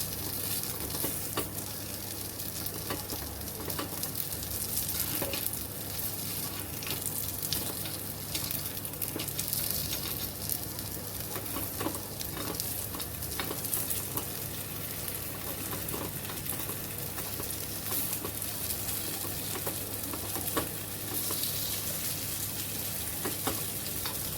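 Wheat flour baati stuffed with paneer and cheese roasts in a pan, a continuous even sizzle and crackle holding close and steady throughout with no one speaking.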